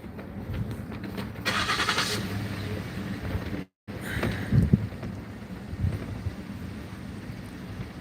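Gusty wind buffets the microphone outdoors, a low rumbling roar with a brief dropout midway.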